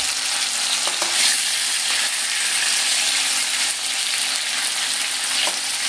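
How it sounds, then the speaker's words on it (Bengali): Needle fish, a sea fish, fry in hot oil and are turned over to cook both sides, producing a loud, continuous sizzle and crackle with no voices. "উল্টে পাল্টে 2 পিঠ আমি খুব ভালো করে ভেজে নেব।"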